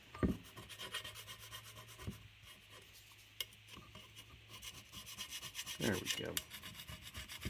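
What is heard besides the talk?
scraper scraping old gasket off an engine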